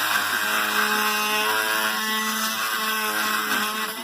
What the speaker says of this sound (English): So I got the Dremel tool out, and it's charged up this time.